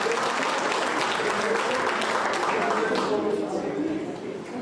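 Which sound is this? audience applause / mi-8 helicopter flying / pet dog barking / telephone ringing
audience applause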